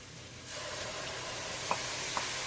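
Diced tomatoes hit a pan of sautéed, seasoned vegetables for a chili, and a soft hiss rises as they land. A couple of light utensil taps follow, quiet and close, with no talking.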